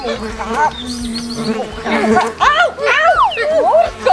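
A fly buzzes briefly in a children's alphabet song, a thin high drone heard among lively children's voices and chatter.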